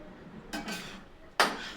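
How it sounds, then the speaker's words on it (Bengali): A lid lifted off a wok of papaya frying over a low flame, giving two brief metallic clinks and scrapes close by, the second sharper and louder, with quiet kitchen background between. "এবার পেঁপের ঢাকাটা আমি কড়াইয়ের ঢাকাটা তুলবো"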